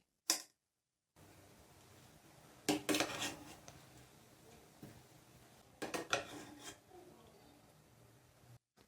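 Degi beef biryani served from a large cooking pot: two clusters of metallic spoon scrapes and clinks against the vessel over a low, steady background hum.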